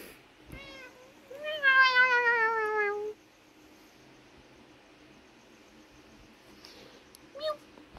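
A house cat gives a single drawn-out, rising-then-falling meow lasting about two seconds, fairly close, followed by a brief fainter squeak near the end over a quiet indoor background.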